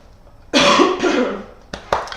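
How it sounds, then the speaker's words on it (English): A person coughs hard in a long harsh burst, then gives two shorter coughs, close and loud with no talking over them. "Excuse me, I'm very sorry about the coughing."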